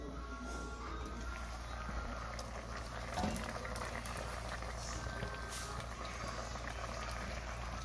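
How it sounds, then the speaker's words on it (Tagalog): Steady bubbling of water at a rolling boil in a pot, a constant fizzing simmer close by with small pops and no clear talk. "Ayan, kumukulo na siya."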